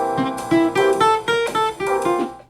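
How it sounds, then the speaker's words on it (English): An amateur-sounding jazz guitar plays a short run of plucked notes and chords, close and clear with uneven attacks, and no voices. "Does your jazz guitar sound like this?"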